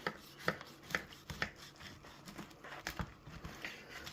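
Knife sawing through a double Smashburger Crunchwrap with fried melted cheese topping and two tostada shells inside, a quiet, close series of crisp crunching cuts at an uneven rhythm.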